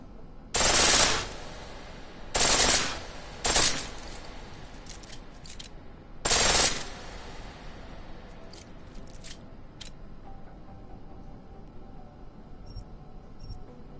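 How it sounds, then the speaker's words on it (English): Pistol on full auto in Deus Ex: Mankind Divided, several short, loud, rapid bursts of crisp shots separated by pauses, followed by faint mechanical clicks over a low ambient hum. "Pistol in full auto will take down targets fast, but it'll burn through your ammo."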